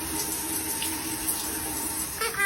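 Steady running water from a tap fills a bath for a pet parrot, a continuous close splashing hiss that carries unbroken throughout, with no voices.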